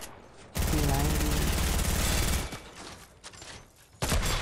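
Rapid automatic gunfire from a P90 in Fortnite, a dense loud burst of shots lasting about two seconds, then quieter game ambience and a short final burst.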